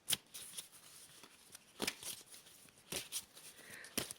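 Quick bursts of tarot cards being shuffled, riffling in several separate flurries with short pauses between, close and crisp.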